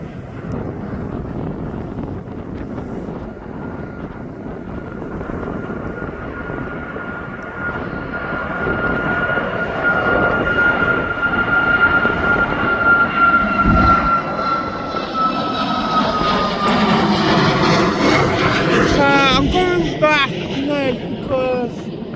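A passenger jet departing East Midlands Airport for Venice, its engine roar swelling steadily from a distant rumble to a loud, sustained whine and rush with a tonal hum, under wind noise, with someone talking faintly.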